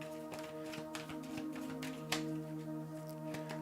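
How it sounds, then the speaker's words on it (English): A deck of tarot cards is shuffled by hand with soft, irregular riffling taps and flicks close by, in a quiet room with no talk. "Let me shuffle the deck."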